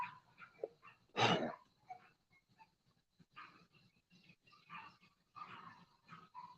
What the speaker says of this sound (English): Some dogs are stirred.